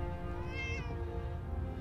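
A cat meows once in Fallout 4, a single clear, drawn-out mew that rises and falls at moderate volume over a low steady game background.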